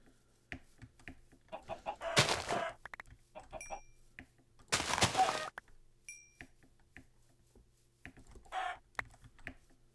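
Video game chickens cluck in short bursts, two louder clusters and a fainter one, over steady keyboard typing close by.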